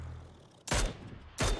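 Two loud, close gunshot blasts in the video game PUBG ring out about three quarters of a second apart over a low background hum.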